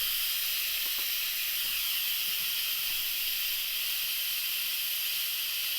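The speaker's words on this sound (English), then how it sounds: "This is what we're doing here is called a quick release, or QR in Instant Pot lingo." Steam hissing from an Instant Pot pressure cooker during a quick release, a steady loud rushing hiss that continues without a break.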